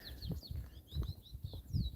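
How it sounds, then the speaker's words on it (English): Birds sing outdoors in the hills of Southern California, a steady stream of high, faint chirps and whistles over a low rumbling background. "And the birds are just singing away."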